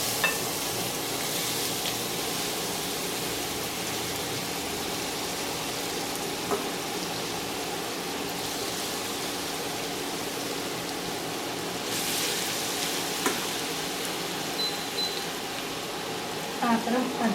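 Two kilograms of grated carrot fry in ghee in a heavy pan for gajar halwa, giving a steady crackling sizzle with stirring scrapes. A person talks intermittently over the cooking.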